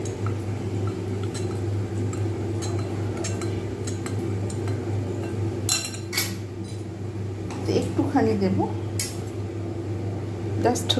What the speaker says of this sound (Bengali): প্রথমে কর্নফ্লাওয়ারটা ভালোভাবে জলের মধ্যে আমি গুলে নেবো